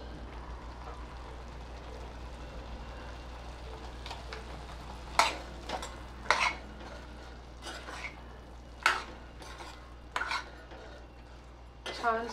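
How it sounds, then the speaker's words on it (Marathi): Mushroom masala being stirred in a pan, with a series of spaced metallic scrapes and clinks of a spoon against the pan over a steady low background hum, no talking. "छान सगळं मिक्स करून घ्यायचं"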